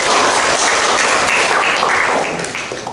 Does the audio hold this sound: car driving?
no